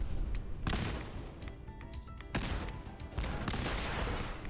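Automated turrets fire in Fallout 4, a dense wash of rapid overlapping gunshots with sharp loud bursts and a steady roar of battle noise throughout.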